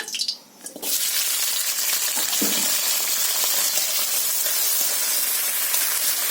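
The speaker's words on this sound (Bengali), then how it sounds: "এটা কড়াইতে আমি নেড়ে নেব" Tomato, onion, green chili, ginger, garlic and coriander hit a hot wok for an egg curry, bursting into a loud steady hiss after a brief clatter, with occasional stirring scrapes over the sizzle.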